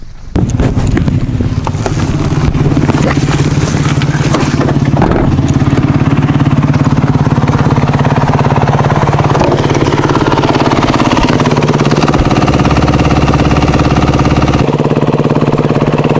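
Motorcycle engine with a distinctive exhaust note, revving and idling loudly up close, rising and falling in pitch over a steady rumbling throb.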